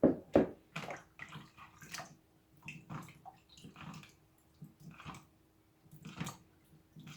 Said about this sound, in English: just throw some water and just rinse them off properly